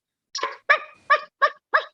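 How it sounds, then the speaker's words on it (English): A dog barks five times in quick succession, loud and close, each bark short and sharp with brief gaps between, no other sounds around it. "Oh no, Miss Sassy is barking and going crazy"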